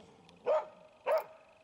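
Two clear, evenly spaced barks from a dog sound moderately close, with a quiet low hum between them.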